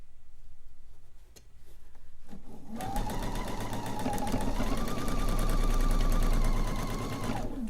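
A sewing machine stitches quilt fabric in a steady rapid rhythm, close and clear, speeding up slightly before stopping.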